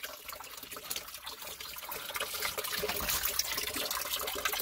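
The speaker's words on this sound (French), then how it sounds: "Petit ruisseau." A small stream trickles through a forest, a continuous bright burble of running water that grows slightly louder, with no voices over it.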